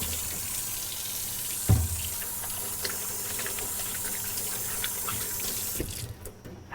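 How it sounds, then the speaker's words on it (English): Hands being washed under a running kitchen sink tap, a steady close stream of water with a couple of brief clunks before the flow stops near the end. "Wash my hands one more time."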